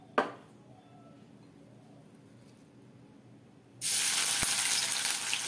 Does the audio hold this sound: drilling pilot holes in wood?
no